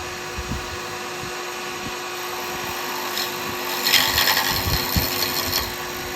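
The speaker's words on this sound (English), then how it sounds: "You can hear the difference between the wood and the resin." Woodturning lathe tool cutting into the wood and resin of a click pen blank, a steady high whirring hum with light scraping bursts that grow slightly louder midway, close and continuous with no talk.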